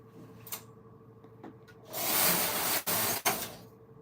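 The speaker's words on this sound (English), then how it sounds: "this is an important part of our knitting machine named machine head" A Silver Reed knitting machine head runs along the needle bed in one loud sustained pass of broadband whirring and rattling, cut by two brief gaps, after a few quieter clicks and knocks at the start.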